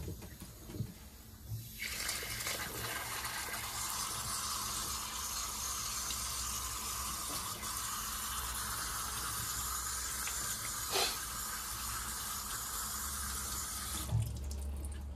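Tap water runs steadily over a metal printmaking plate during a degreasing test before applying hardground, a constant close hiss and splash lasting over ten seconds before cutting off.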